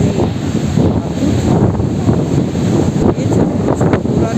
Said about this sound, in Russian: тут ветер как ураган.